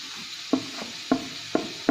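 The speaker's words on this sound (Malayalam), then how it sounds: "ഇതൊക്കെ ഒപ്പം മിക്സ് ചെയ്ത് നന്നായി ഇളക്കുക" Soya bean fry with added ingredients being stirred in a pan: four spaced scrapes of a spoon against the pan over a steady soft sizzle, close and moderately loud, with no talking.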